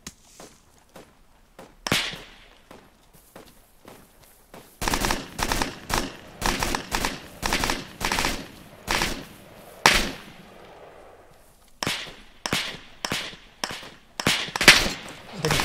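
Gunfire from beyond a tree in a combat game, bursts of sharp cracking shots in rapid clusters with short pauses between volleys, loud and fairly close.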